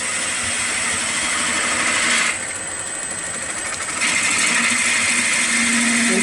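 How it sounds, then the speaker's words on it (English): A wood lathe spins a baseball bat blank while a half-inch spindle gouge cuts it, a steady whirring drone with broadband shaving noise. The noise thins noticeably for about two seconds midway, then resumes at full strength. "I'm just using a half-inch spindle gouge"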